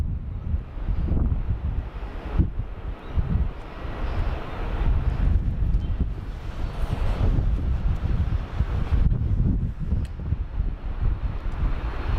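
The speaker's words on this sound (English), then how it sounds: "Cathay 777 just waiting for the takeoff clearance." A Cathay Pacific Boeing 777 at Sydney Airport holding before takeoff, its engines a low, steady roar heard from a distance under heavy wind buffeting the microphone, with no talking.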